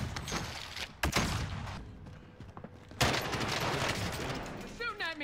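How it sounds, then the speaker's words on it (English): Bursts of video-game gunfire, loud irregular volleys with sharp onsets around two distinct shots, mixed with mechanical clatter and game voices. "You're shooting at me!"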